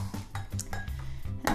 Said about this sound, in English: I'm just picking the blender up and stamping it down the sides to kind of scrape